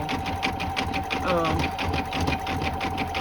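An embroidery machine stitching with a fast, steady mechanical rattle and regular needle pulses, close and continuous throughout.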